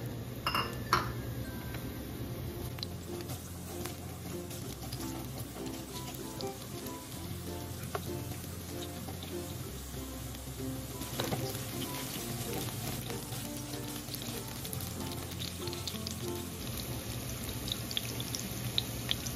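Red onions fry in a pan of oil for a bangus steak dish, a continuous crackling sizzle like light rain, with occasional soft clinks of utensils against the pan and no voices.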